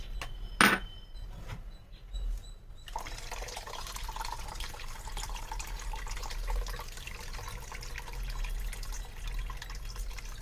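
Water pours into a pot of ghee rice and coconut milk, a steady continuous gushing after a few clinks of utensils at the start.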